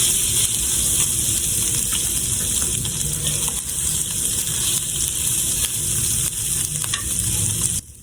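Seasoned pork sisig sizzles loudly and continuously on a hot buttered sizzling plate, a close, dense hiss with faint crackles throughout that cuts off abruptly near the end, with no talking.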